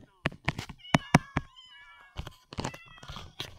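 Several cats meow in short repeated calls in the video game Minecraft, with some higher tonal mews and one voice talking between them.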